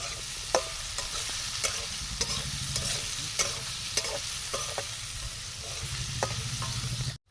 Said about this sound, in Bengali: অজয় ভাই আমাদের চিচিংকে ভেজে ফেলেছে একটু ব্রাউনি ভাব হলে আমরা নামিয়ে নেবো